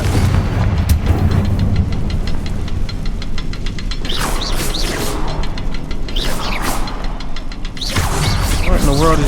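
A Confringo blasting spell goes off in Hogwarts Legacy on Xbox Series X, with several loud booming bursts and whooshes rising over steady game noise and music.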